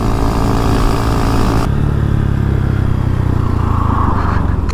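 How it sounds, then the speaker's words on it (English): A 2022 Honda Monkey motorcycle fitted with a Termignoni exhaust revs loud and close, then settles to a deep, throbbing idle with a constant low rumble. "At least it sounds like a motorbike now, not like a sewing machine."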